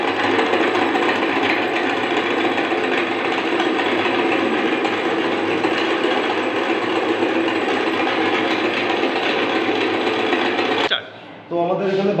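A small 12-volt battery-driven demonstration machine turning wheel rotation into sliding motion, a continuous whirring mechanical drone that runs steadily before cutting off abruptly near the end, followed by a brief rattle.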